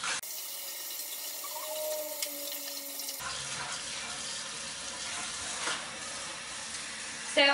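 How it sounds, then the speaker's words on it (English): Hot tap water runs steadily from a faucet into a hookah vase, a constant hissing splash that shifts in tone partway through as the flow or filling changes. "So then I'm gonna take my tap water here and faucet,"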